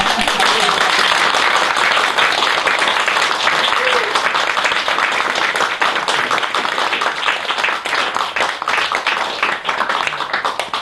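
A conference audience applauds at the end of a talk, a dense, loud wash of many hands clapping that continues steadily throughout, with faint voices mixed in.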